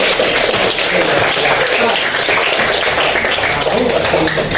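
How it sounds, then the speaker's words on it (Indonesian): A fifth-grade primary school class claps for a classmate, a dense burst of many hands applauding close by, steady and loud across the whole moment. "Tepuk tangan dulu buat temannya, ayo."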